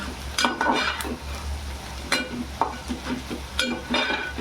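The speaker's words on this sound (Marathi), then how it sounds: "एवढा कांद्याचा आता कलर चेंज झाला आहे याच्यात हळद टाकते हळद पण जरा दवळून घेते" Sliced onion with turmeric fries in a pan for a Marathi wild-greens bhaji, a close sizzle punctuated by sharp spatula knocks and scrapes against the metal at irregular intervals.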